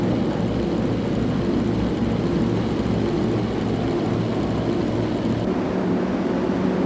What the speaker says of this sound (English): Enemy aircraft incoming.